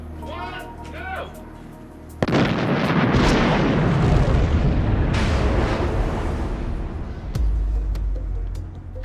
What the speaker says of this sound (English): we covered a Jeep exploding for real. It was a beautiful, perfect explosion stunt